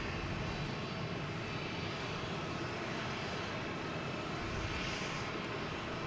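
A Boeing 747 jet airliner on runway 4 right at Boston Logan Airport produces a distant, steady engine roar, a faint continuous rumble and hiss with no voices.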